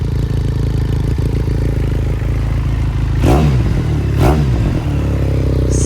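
A 2018 Benelli TRK502 motorcycle engine idles steadily up close, then gets two short revving blips a second apart before settling back to a loud idle.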